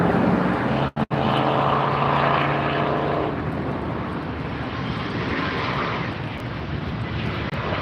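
A big jet airliner arriving at Los Angeles International Airport, its engines a loud, steady roar close by that fades slightly as it passes, with a brief cut near the start.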